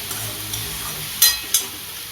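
Spices fry in hot oil for a dried bombil chutney, a gentle steady sizzle broken by two sharp scrapes of a spoon stirring the pan.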